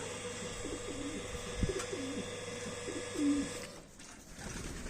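Domestic pigeons coo in soft, low repeated phrases over a steady background hum, with a brief knock partway through.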